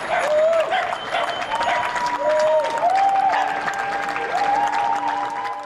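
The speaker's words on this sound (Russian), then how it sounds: "Люди в одно время по всей стране выходили на свои балконы и аплодировали." Applause from residents on balconies across a city, thanking doctors during the COVID pandemic; steady loud clapping fills the whole stretch, with faint tonal whistles or calls rising over it.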